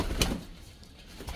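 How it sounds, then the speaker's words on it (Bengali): A pair of pigeons gives a soft, brief coo, faint and close by, in a quiet setting with no talking. "এই কবুতর জোড়া আমরা কালকে নতুন নিয়েছি।"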